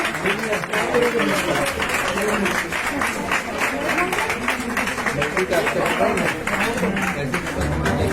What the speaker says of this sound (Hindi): एक बार उनके स्वागत के लिए जोरदार तालियां हो जाए।